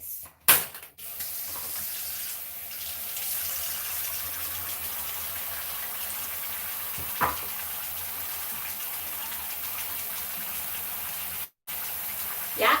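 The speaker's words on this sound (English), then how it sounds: "And we gonna get to washing our face." A tap runs steadily into a sink during face washing, making a continuous close hiss and splash. Brief knocks and clatters come near the start, and a short break in the flow falls near the end.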